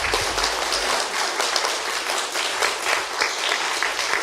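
An audience at a Christmas special show applauds with thick, continuous clapping, close and loud, with no break from start to end.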